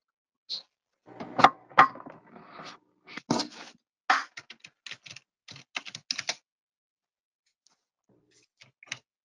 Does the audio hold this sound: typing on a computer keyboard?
yes